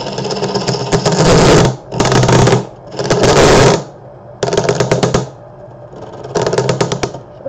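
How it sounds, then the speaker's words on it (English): A lathe tool chatters and clatters against a hidden metal screw while turning a red oak firewood bowl with a live edge. The harsh, loud grinding comes in five bursts separated by short gaps. "I think I hit a screw, people."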